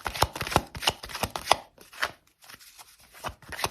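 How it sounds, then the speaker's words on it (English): Tarot cards are shuffled by hand in a quick run of crisp riffling slaps and taps, close and fairly loud, with a short lull near the middle before the shuffling resumes, no voices. "Okay, so I'm going to shuffle these here."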